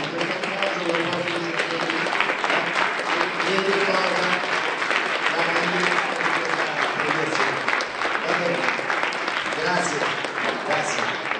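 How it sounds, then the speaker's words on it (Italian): An audience at an international poetry award ceremony applauds in sustained, dense clapping that stays loud and even for over ten seconds, with voices faintly mixed into the crowd noise. "Noi la ringraziamo per questo applauso."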